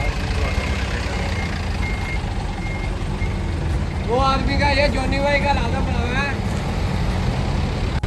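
A truck reversing in a market in Manama, Bahrain: a rapid chain of warbling reverse-warning beeps rises over a steady engine rumble and busy outdoor background for a few seconds, with voices nearby.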